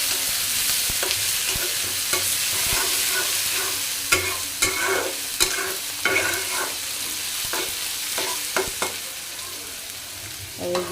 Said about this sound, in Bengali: পেঁয়াজগুলোকে এখন লাল করে ভেজে নেব।